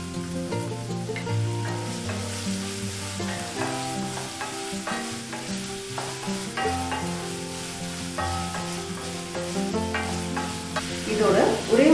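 A finely chopped medium onion frying in a spoon of hot oil in a kadai pan for mushroom soup, a steady low sizzle with some stirring, largely buried under continuous background music.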